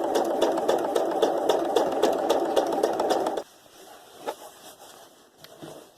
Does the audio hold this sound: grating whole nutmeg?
no